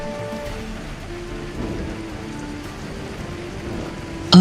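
Heavy rain falling steadily as a continuous, even hiss with faint low rumbling underneath, ending in a brief louder burst.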